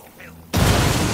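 A frag grenade detonates in Ghost Recon Wildlands, one sudden loud, close blast that cuts in after a brief quiet stretch and then sustains as a broad roaring rumble until the end.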